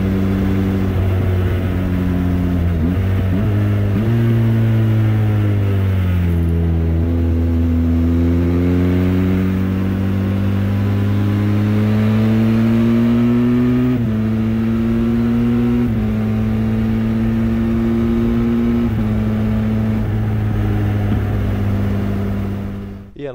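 A Benelli TRK502X motorcycle engine revs hard and climbs through gears, with brief drops between steady rising tones as each clutchless upshift lands, loud and close for the whole stretch.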